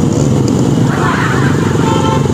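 Royal Enfield Bullet motorcycles with a silencer crack ride in an Independence Day group run, a loud, continuous, thumping engine rumble up close, with a voice faintly underneath.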